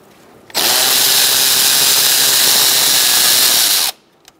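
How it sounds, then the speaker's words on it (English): A power tool with a 10mm socket runs continuously for about three seconds, loud and close, while removing shroud bolts from a 1998-2011 Ford Ranger 3.0L V6. It starts and stops abruptly, and the surroundings are quiet before and after. "Using a 10mm socket, we're going to take out these bolts."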